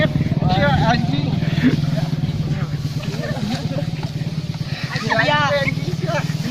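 A motorcycle engine idles and chugs steadily nearby at a village roadside, its low putter running under loud, animated talking from several men throughout.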